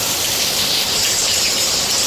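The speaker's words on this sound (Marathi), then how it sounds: "आता एक नंबर पाऊस चालू आहे बाहेर" Heavy rain pours outside in a steady, loud, unbroken hiss that fills the whole stretch, with no voices.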